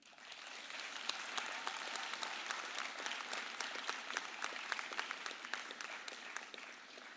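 Graduates and guests at the Sutherland Campus convocation applaud in a long, sustained round, many hands clapping steadily at a moderate distance in a large hall.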